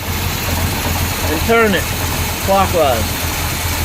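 A 350 V8 idles with a steady, close rumble while its carburetor idle mixture is being adjusted, the engine note holding even as someone speaks over it briefly.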